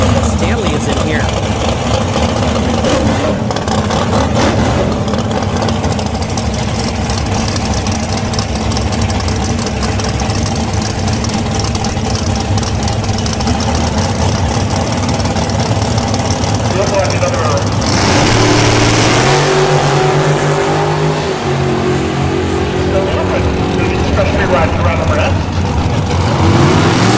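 A drag racing dragster sits at the line at an NHRA bracket finale, its engine idling with a loud, rough, continuous rumble, then revving harder near the end, while an announcer talks over it throughout.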